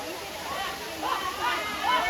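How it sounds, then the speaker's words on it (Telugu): Kalmandavi waterfall near Jawhar, Maharashtra, in summer gives off a steady, loud rushing roar under a person's speech. "చూసారు కదా వాటర్ ఫాల్స్,"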